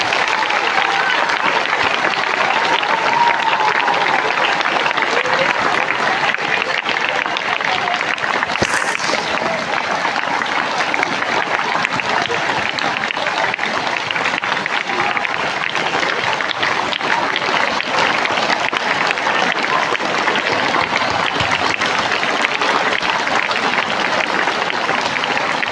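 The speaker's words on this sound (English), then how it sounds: "the clapping should not stop" Students at a farewell ceremony for a teacher keep up long, loud, continuous applause, a dense unbroken roar of clapping from a large crowd that never lets up.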